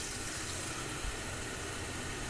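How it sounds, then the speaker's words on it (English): Tap water runs from a faucet into a one-liter sample bottle for a lead test, a steady close hiss and splash that stays constant throughout with no talking. "I'm going to put it underneath this faucet, and I'm going to start my timer and turn on the faucet."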